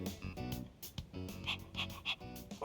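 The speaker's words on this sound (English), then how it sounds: "Dog noises." A dog in the Persona 3 Reload video game whimpers and pants in short bursts, with soft yips and breathy sounds close up over quiet background music.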